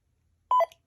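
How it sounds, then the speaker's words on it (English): Short electronic beep from the button of a Crimson Core V2 vape mod set to volume 5, a single clear two-tone chirp heard alone in a quiet room. "There's now an audible beep."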